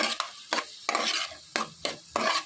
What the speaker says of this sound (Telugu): వేసుకున్న తర్వాత ఇదంతా కూడా బాగా మిక్స్ అయ్యేలా కలుపుకోవాలి